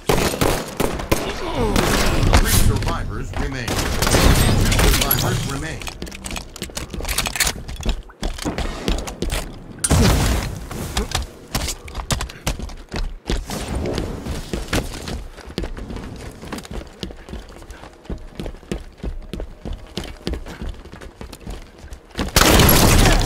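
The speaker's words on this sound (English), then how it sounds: "Show him what a shotgun can do!" Shotgun blasts and other gunfire ring out during a last-man-standing shooter video game match, with loud repeated bursts over game music and effects, and an announcer voice calling out kills.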